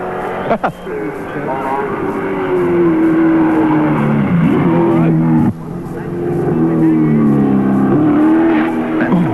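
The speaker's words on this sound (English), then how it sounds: "Alan Grice at speed." A touring race car at speed during the 1983 Bathurst 1000, its engine a loud, sustained roar that shifts pitch through gear changes, heard from nearby, with a brief break partway and a race commentator talking over it.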